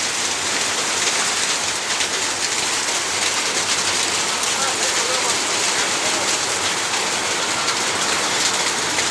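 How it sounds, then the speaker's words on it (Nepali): Hail falls on maize and other crops in a field, a dense continuous roar of pelting and drumming that stays loud and unbroken throughout. "हेर्नुहोस् असिना परेको हेर्नुहोस्।"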